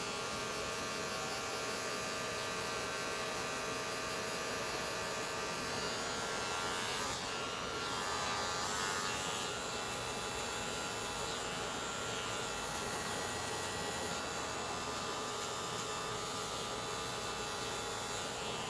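A gold Wahl Magic Clip electric hair clipper hums steadily and continuously at close range while cutting a taper, with no one talking.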